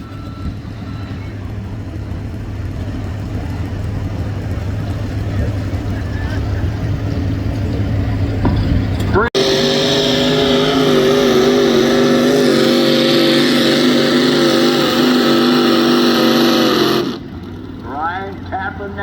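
A 2007 GMC pickup truck from Bowling Green, Ohio roars loudly while pulling a sled at a county fair truck pull, its engine howling in a sustained high-revving drone that cuts off abruptly near the end, with an announcer talking over the earlier part.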